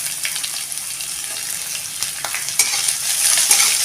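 Lengthwise-sliced medium onion sautéed with garlic cloves in a pan, a bright hissing sizzle up close with spatula scrapes and taps, the frying growing louder toward the end.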